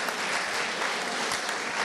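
Applause from an audience at a community sports festival, dense steady clapping filling the whole moment at an even level with no voices standing out.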